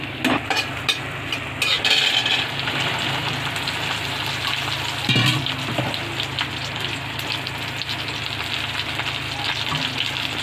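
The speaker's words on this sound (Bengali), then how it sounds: "চিনিটাকে আমি জাল দিয়ে নিচ্ছি বন্ধুরা, একটু সিরাপ করে নিচ্ছি" Sugar and a little water boil into syrup in a pan, making a steady, close, frothy bubbling sizzle throughout, with a few faint clinks along the way.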